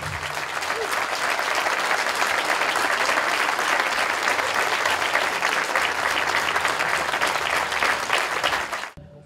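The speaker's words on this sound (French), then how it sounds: "une grosse pensée à Jason, qu'on peut l'applaudir très fort." At an outdoor memorial gathering, a crowd claps loudly and steadily for a long stretch, dense clapping from many people that cuts off abruptly at the end.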